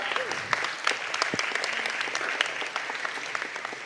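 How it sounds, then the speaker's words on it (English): A crowd applauds steadily at a dance event, dense overlapping claps filling the space at an even level throughout, with a faint voice briefly audible underneath. "A big round of applause to the shining stars of Devaniya."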